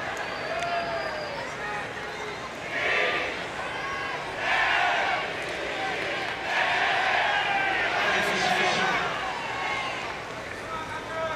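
A large tennis crowd at the 1998 Key Biscayne final between Rios and Agassi keeps up loud, swelling cheering and chanting, rising in waves, with a commentator speaking over it.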